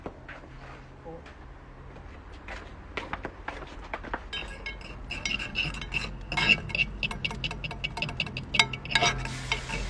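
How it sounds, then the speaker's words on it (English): A spoon stirs sauce in a pot on the stove while cooking Korean food, giving soft scraping and clinking with some bubbling, growing busier and louder over time as people talk nearby. "let's get a spoon and we'll just give it a stir."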